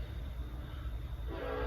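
A train rumbles by close at hand, a steady low roar with a faint horn-like tone rising near the end.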